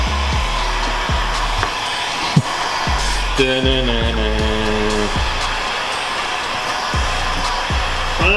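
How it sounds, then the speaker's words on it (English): A heat gun blows on car window tint, a loud, continuous close rushing whine with soft repeated low thumps beneath it. "We're gonna try to clean it up with the heat gun."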